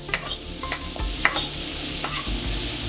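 Meat sears in a pan and gets pushed to one side, a constant loud sizzle broken by scraping and stirring clatters at uneven intervals.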